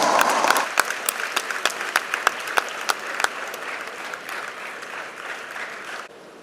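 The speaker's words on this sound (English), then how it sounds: "Everyone, please give them a huge round of applause." Audience at a university national coding event award ceremony in Deralakatte breaks into loud, sustained applause with sharp individual claps, fading slightly before stopping abruptly near the end.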